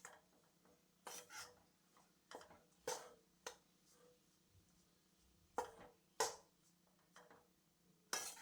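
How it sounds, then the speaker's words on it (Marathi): A kadhai shifting and scraping on the stove while besan roasts in ghee, giving scattered sharp metallic knocks and scrapes. Several louder clanks come at irregular intervals over a low, steady background. "कढई माझी सारखी इकडं तिकडं हलतीये,"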